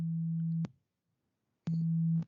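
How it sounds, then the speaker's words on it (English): A pure sine wave tone from a Cherry Audio modular synthesizer, a steady low hum that sounds twice, each burst cutting off abruptly, with about a second of silence between them. "this is the first harmonic. It's a sine wave over here."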